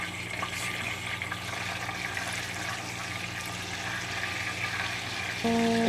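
Butter bubbles and sizzles steadily as it browns in a pan, a continuous soft frying hiss close by, ending in a brief tonal beep.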